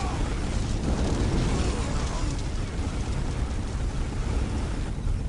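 A massive reactor core overload explosion in Dawn of War: Dark Crusade, a loud sustained rumbling blast with dense low roar that fills the whole stretch without letting up.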